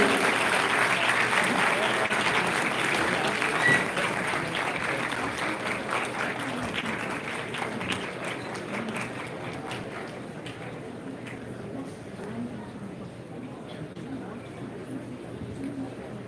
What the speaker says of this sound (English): Kids, round of applause.